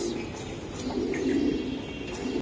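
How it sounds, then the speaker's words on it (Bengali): Damascene pigeons coo in a low, continuous murmur, a steady throaty sound that swells slightly midway, with a faint voice in the background. "দামাসিন কবুতর খুবই সুন্দর"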